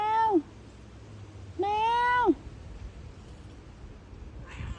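A cat stuck up a tree gives two clear, drawn-out meows a second apart, fairly close and loud over quiet background, followed by a fainter, brief cry at the end.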